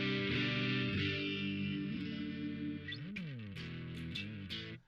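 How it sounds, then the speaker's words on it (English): Electric guitar run through an overdrive pedal with the drive raised, playing sustained, harmonically rich distorted chords and bending notes, loud and continuous with no talking, fading out at the end. "So right there you can hear it drives a little bit harder."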